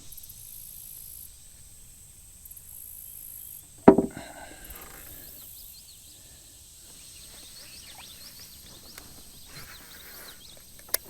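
A faint, rapid chirping and clacking from a buzzbait lure retrieved across creek water, with a sharp splash-like burst near the middle and quiet outdoor background.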